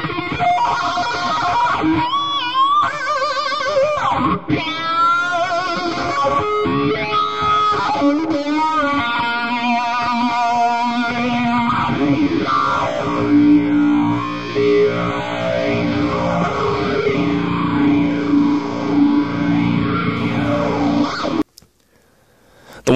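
Electric guitar played through a sweeping wah pedal, the tone swelling and sliding up and down continuously for over twenty seconds, loud and distorted, ending abruptly.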